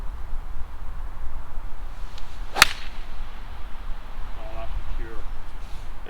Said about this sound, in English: so let's see if we can hit a good one with the Slazenger